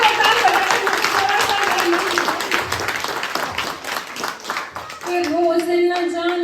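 Audience clapping at a Hindi poetry recital, a lively burst of many hands that tapers off, then gives way to a woman's sung-spoken verse over the fading claps.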